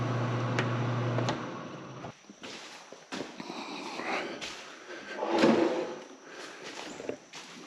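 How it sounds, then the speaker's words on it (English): Small drawer in an RV kitchen opening and closing, a few soft knocks and slides close by in a quiet room, after a fan hum stops. "We really like that little drawer."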